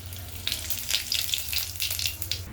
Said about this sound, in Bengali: তো তেলটা গরম হয়ে গেছে, দেখো ধোয়া উঠছে। এটার মধ্যে দিয়ে দেবো অল্প একটু জিরে।